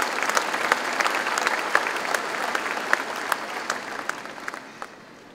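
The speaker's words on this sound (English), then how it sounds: "So give yourselves a round of applause." A graduation ceremony audience claps in a dense, lively burst of applause that carries on for several seconds, then gradually fades out toward the end.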